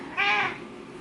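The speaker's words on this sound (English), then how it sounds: "Poor baby kitty." A cat gives a single short, clear meow up close indoors, followed by quiet room tone.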